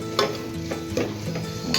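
Cooked vegetables for pav bhaji, including green peas and capsicum, being mashed and stirred in oil in a pan: soft sizzling under a few close, irregular thuds and scrapes of the masher.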